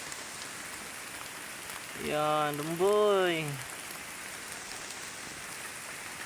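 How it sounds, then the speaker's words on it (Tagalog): Steady rain patters on a bamboo grove during an outdoor dove hunt, an even wash of drops throughout while someone speaks briefly in the middle. "Yan, inulan na kami."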